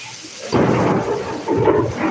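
Deep thunder rumbles roll in two loud swells during a heavy rainstorm, close and broad over a steady background of rain.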